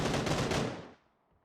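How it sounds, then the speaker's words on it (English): A burst of rapid AK rifle fire in the video game PUBG rattles loudly for under a second, then cuts off into near silence. "Mitch taking Brain down, absolutely lasering him with that AK."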